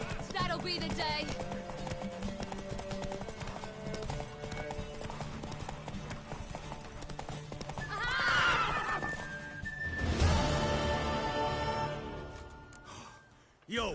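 A horse trots with rhythmic clip-clopping hooves in The Witcher 3 on PS5, then whinnies loudly near the end, with a gasp and voices heard amid the game music.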